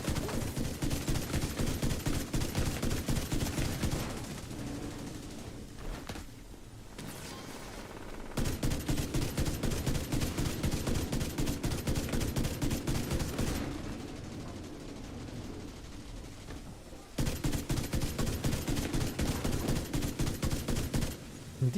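Long bursts of automatic gunfire from The Division 2, rapid rattling shots in sustained strings separated by short quieter pauses, loud and close throughout.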